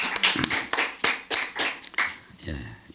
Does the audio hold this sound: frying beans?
no